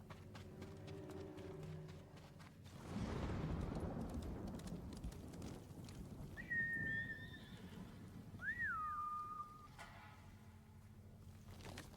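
Horse in the samurai video game Ghost of Tsushima, a neigh and whinny rising over rushing, rumbling movement, with drawn-out tonal calls near the end, no speech.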